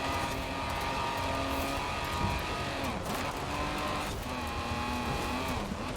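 A car in Forza Horizon 4 during a Star Dew Rallye seasonal championship race, its engine droning steadily at a high pitch with slight shifts in revs and tyre noise throughout, no voices.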